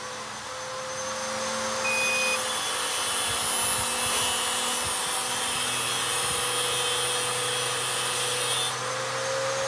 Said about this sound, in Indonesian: Ini beban gerinda.